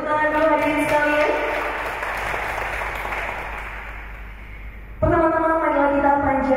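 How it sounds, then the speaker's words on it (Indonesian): Crowd applause at a youth election literacy workshop, a broad burst of clapping rising between stretches of amplified voice, fading out before the speaker resumes. "Boleh tepuk tangan dulu hadirin sekalian"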